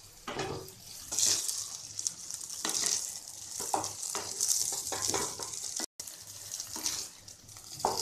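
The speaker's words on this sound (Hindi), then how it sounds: "इसे हम 10 मिनट तक इसी तरह चलाते रहेंगे। मैंने यहाँ पर गैस का फ्लेम मीडियम रखा है, इसे हमें लगातार चलाते रहना है।" Corn halwa frying in a pan on a medium gas flame, stirred continuously, giving a steady close sizzle with rhythmic spoon scrapes and no talk.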